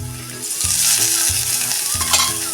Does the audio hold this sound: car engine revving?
no